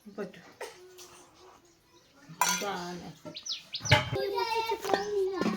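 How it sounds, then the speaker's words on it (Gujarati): Sparrows chirp in short, bright bursts near a morning tea gathering, mixed with voices talking and the clink of cups and dishes. "જો ચકલા આવી ગયા"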